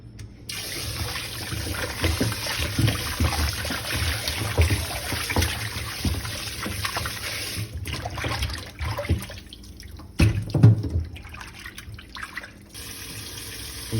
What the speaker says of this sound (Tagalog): Dalawang beses ko itong hugasan bakol para mas malinis at makuha yung ibang langsa.